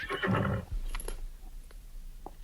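A horse-like whinny, rough and breathy at first, followed by a few fainter snorts and short calls in a quiet outdoor setting.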